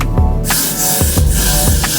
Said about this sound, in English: I love to just give it a touch of holding spray